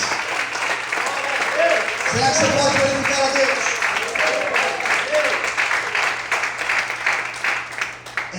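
A church congregation applauds and cheers loudly for several seconds while a preacher keeps speaking over the crowd, the clapping dense and sustained throughout.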